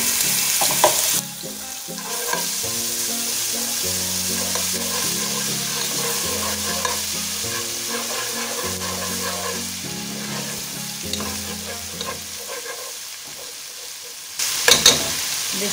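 Steady frying sizzle of ginger garlic paste with browned onions, occasional stirring scrapes, continuous and close, while a simple melodic background tune plays underneath.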